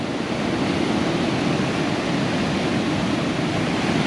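Waves wash into a rocky tide pool beneath coastal cliffs, a continuous loud rushing hiss of surf with steady wind noise and no distinct breaks.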